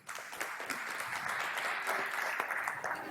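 Audience applause for a volunteer called up during a live talk on communicating with the unconscious mind, a steady wash of clapping lasting a few seconds, moderately distant and even.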